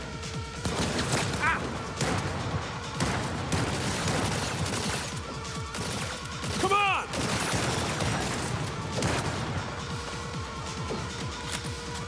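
Sustained gunfire in Cyberpunk 2077: Phantom Liberty crackles in dense, repeated bursts alongside crashes and impacts through a chaotic firefight, with a voice speaking at times under the din.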